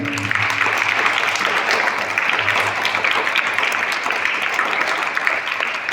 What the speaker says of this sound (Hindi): तो उन वीर बलिदानों के लिए भी एक जोरदार तालियों से स्वागत।